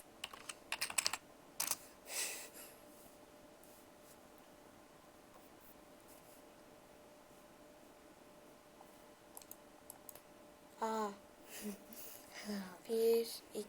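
Bursts of clicking keystrokes from a computer keyboard, quiet and close, with short clusters at the start and a busier run near the end, separated by a long hush and brief voices.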